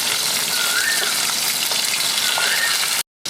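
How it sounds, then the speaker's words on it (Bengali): Pabda fish frying lightly in oil: a dense, close hiss of sizzling fills the clip, with faint shifts as pieces settle, then it cuts off abruptly near the end. "সব মাছগুলো এমনি করে ভেজে নেবো"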